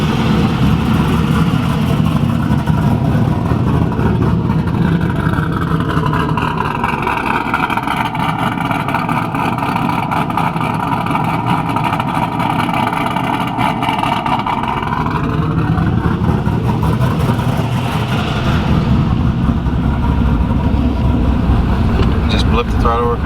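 A built Pontiac Trans Am WS6 engine idles steadily, then is revved up to about 10% throttle and held at a higher pitch for several seconds before dropping back to idle; a voice speaks nearby.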